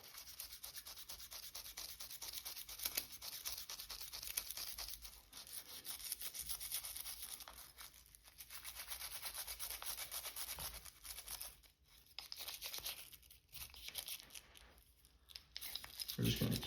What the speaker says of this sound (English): and all we're just going to do is scrub.